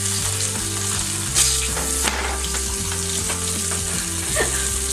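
Japanese-style chicken wings fry in hot oil with a steady, close sizzle and bubbling crackle, and occasional clinks and stirring sounds come over the top.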